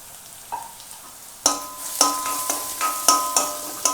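Chopped green chillies tossed into frying onions for a chicken spring roll filling; the sizzle jumps as they land, then a spoon stirs with a run of sharp metallic taps against the pan, close and fairly loud.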